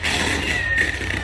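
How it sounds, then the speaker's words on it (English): A cat meows in a Nigerian comedy scene, with a steady tone sustained across a short stretch above a constant low hum and background noise. "You go hear cat shout."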